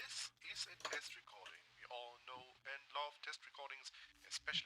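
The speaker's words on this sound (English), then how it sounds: "Telephone-like distortion, radio communication-like effects." A voice is run through the Beatskillz Chorust plugin with a telephone-like distortion, sounding thin and boxy like a radio transmission, with continuous speech throughout the short passage.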